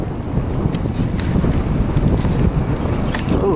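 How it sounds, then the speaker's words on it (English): Strong wind blows steadily outdoors near a swamp, buffeting the microphone with a loud, continuous low roar and no talking. "The wind is really blowing today."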